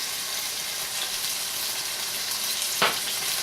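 Short ribs frying in a pan with garlic, parsley and salt, a steady close sizzle running throughout with one brief sharper crackle near the end; no talking.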